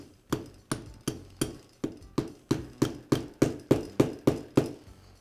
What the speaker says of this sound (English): I'll place it onto the connecting rod and start it into place with a rubber mallet